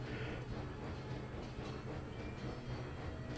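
Steam train running in the Railroads Online video game, a steady low rumbling drone with rhythmic rail clatter and rolling wheel noise, constant and fairly quiet, with no talking.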